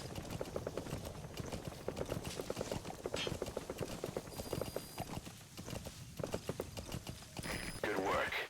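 Horse hooves clip-clop at a steady trot in the video game Metal Gear Solid V, near and rhythmic, with a brief whinny near the end and someone talking over much of it.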